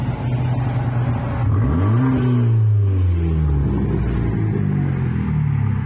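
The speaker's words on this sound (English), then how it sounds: "let me show you guys how the exhaust sounds" A Fiat 500 Abarth tuned to about 190 bhp idles with a deep exhaust burble, then the revs rise and fall in a swelling sweep before settling back to a steady rumble, close and loud.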